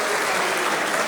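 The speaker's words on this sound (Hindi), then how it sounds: "क्या एक बार ताली बजाओ इसी तरह से करो" Audience applause at a mushaira poetry gathering in Lucknow, a dense, steady burst of many hands clapping at close range for about a second.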